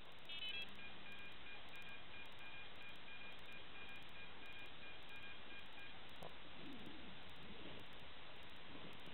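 A high electronic beep from a bite alarm during a carp fishing session rings out briefly at the start, then fades under steady outdoor background noise with faint rustles later.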